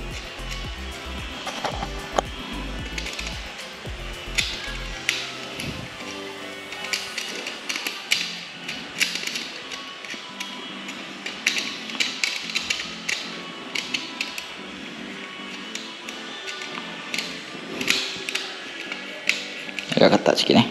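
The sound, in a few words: loosening screws on a 20A switch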